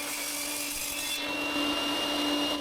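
A power saw runs steadily through a piece of bubinga wood, ripping it to a thick board, with a continuous whining drone and a slight pitch shift partway through.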